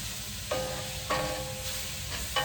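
Vegetables stir-frying in an oiled pan for chicken stir-fry give a steady close sizzle, with a few sharper bursts as the food is stirred and tossed.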